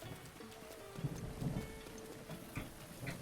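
Steady rain falls across an outdoor scene in The Legend of Zelda: Breath of the Wild, a soft continuous patter with occasional low rumbles underneath, moderately quiet and without voices.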